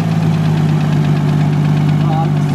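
A cold Nissan R33 Skyline engine idles with a steady, loud, even drone and a firm low hum throughout.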